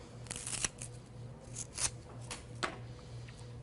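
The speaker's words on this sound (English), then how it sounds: "It's got a very thick stem, and it's going to take me a moment to trim it" A thick flower stem is cut and trimmed during flower arranging, producing a few close, crisp snips and rasping scrapes spread over several seconds, with no speech.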